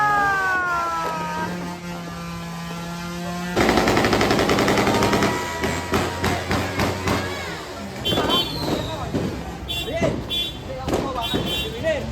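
Rapid strings of crackling firecracker bangs burst in a dense, uneven barrage at a New Year's celebration, with a droning tone early on and voices mixed into the noisy scene.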